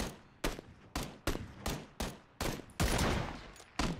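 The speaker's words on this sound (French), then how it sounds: "Je me suis fait headshot par M24." Repeated gunshots in PUBG, including an M24 sniper rifle, ring out as a series of about eight sharp, evenly spaced cracks, each with a short fading tail, fairly close and loud.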